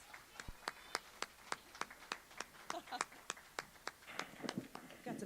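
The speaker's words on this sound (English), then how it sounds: "Let's give him a big round of applause" Rhythmic clapping for a moderator at an education conference in Las Vegas, a regular beat of sharp, moderately distant claps from an audience with some cheering and scattered talk mixed in.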